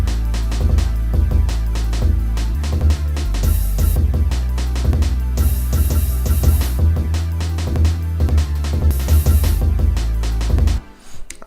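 Jungle drum beat built from a chopped-up classic breakbeat sample: fast, busy breakbeat snares and hats over a heavy deep bass, with recurring cymbal crashes, loud and continuous until it cuts off near the end.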